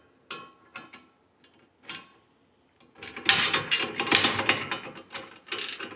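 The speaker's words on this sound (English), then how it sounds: "You just crank the old handle here and run it back and forth through the machine until it gets that size of hoopy thing on there." A hand-cranked sheet metal rolling machine clicks and ratchets: a few short mechanical clacks, then a longer run of grinding and clattering as the handle turns, close up with no talk.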